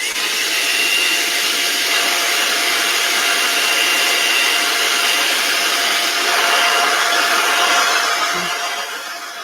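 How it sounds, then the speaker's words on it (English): A hairdryer blows steadily on wet metallic paint during gel printing with stencils, a constant close whooshing drone with a faint high whine, running alone with no talk. "the best thing I can do is use my hairdryer again"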